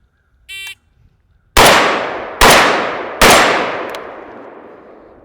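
Three loud rifle shots against steel targets at about 35 yards, evenly spaced under a second apart, each a sharp crack with a ringing metallic decay, preceded by a short electronic beep from a shot timer.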